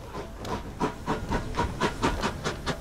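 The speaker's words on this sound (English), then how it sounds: "The engine is exactly the same as a train." Rhythmic chuffing hiss of a vintage steam car engine, evenly spaced puffs like a train, close and steady with no voices.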